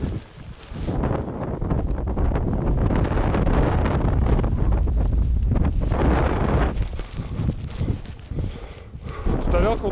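Stormy wind buffets hard against the microphone on Mount Etna, a loud roaring gusty rush that swells and dips throughout, with voices speaking beneath it.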